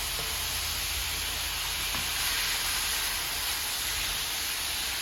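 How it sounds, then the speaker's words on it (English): Steak browns in olive oil with onion and garlic in a pan, making a dense, constant sizzle and hiss that stays loud and steady from start to finish, with no talking. "So we're just going to let our steak brown a little bit in that olive oil"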